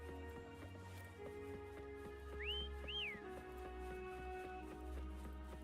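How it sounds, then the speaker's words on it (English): Two short rising-and-falling whistles sound in the Wuthering Waves video game, clear and moderately near, over a soft background music bed. "Try whistling."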